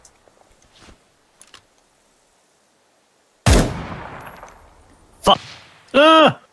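Gunfire in the tactical shooter Ground Branch: a loud, close burst of shots with a decaying tail, then a second sharp shot and a final blast, after quiet footsteps and a player swearing.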